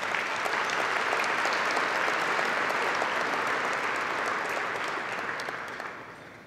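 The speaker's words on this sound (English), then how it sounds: "So please give our staff a round of applause" A large audience of about a thousand at a luncheon applauds in a dense, sustained burst of clapping that tapers off at the end.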